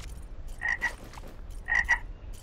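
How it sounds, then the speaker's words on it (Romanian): Frogs croak near water in The Red Beret, two paired rasping calls about a second apart over a low ambient hum, moderately close and without speech. "Aud broaște pe aici."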